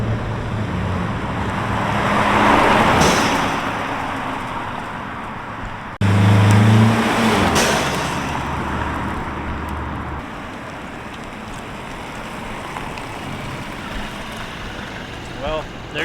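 Mercedes E300 with its exhaust cut-out valves closed, passing as a fairly quiet drive-by: a low engine rumble swells and fades over steady road noise, with a second surge midway, and a voice talks over it.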